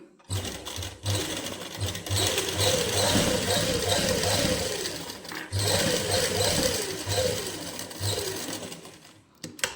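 A sewing machine runs in steady, close bursts while stitching a seam on a winter suit. Its rapid mechanical whirring stops briefly and then starts again for a second run.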